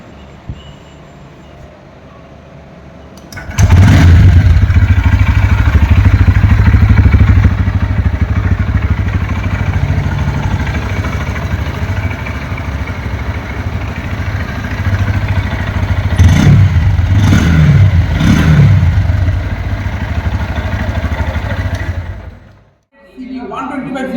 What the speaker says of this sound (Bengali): চলুন একবার দেখে নেওয়া যাও বাইকের সাউন্ড কোয়ালিটি কেমন আছে